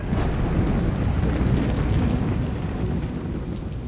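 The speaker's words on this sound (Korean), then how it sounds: "괌에는 하루 종일 비가 내리고 있었습니다" Heavy, steady rain pours down on Guam during the August rainy season, with a deep, low thunder rumble rolling underneath the dense hiss throughout.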